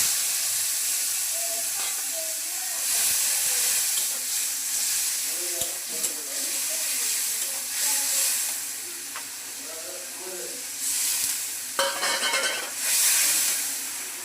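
Turmeric powder and a little water hit hot oil tempered with whole cumin, bursting into loud hissing sizzles that rise and fall in waves, with brief spatters and stirring sounds close by.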